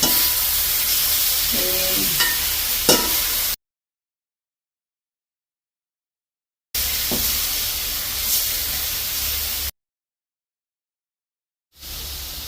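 Large prawns stir-frying with onion and tomato in a pan, a steady close sizzle and hiss with a few utensil scrapes, cut by two stretches of silence.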